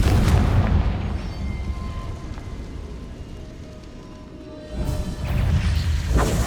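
Repeated Confringo blasting spells erupt in Hogwarts Legacy during a dragon fight, with loud, rumbling explosive booms that roll on continuously, dip slightly, then surge again near the end.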